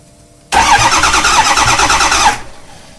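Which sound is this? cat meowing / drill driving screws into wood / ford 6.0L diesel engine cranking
ford 6.0L diesel engine cranking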